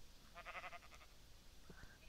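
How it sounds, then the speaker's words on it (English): Sheep bleating in the Minecraft modpack Resonant Rise, a short cluster of nasal bleats up close, followed by a fainter second call, with a steady low background hum. "Lots of sheep."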